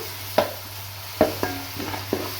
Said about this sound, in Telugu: ఇప్పుడు దీంట్లో అల్లం వెల్లుల్లి పేస్ట్ అనేది వేసుకోవాలి.